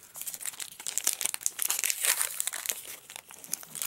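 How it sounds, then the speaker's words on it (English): Frozen sticker pack torn open by hand, heard as close, continuous crinkling and crackling of foil wrapper with small tearing bursts. "so let's open my last pack and see what I get."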